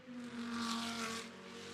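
A GT2 race car at Spa-Francorchamps gives a faint, steady engine drone that swells slightly in the middle as it passes, heard alone without commentary.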